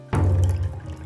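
Water pouring from a KINTO 430 ml pour-over coffee kettle into a brewer, a short close splash that settles into a steady trickle, loud and alone.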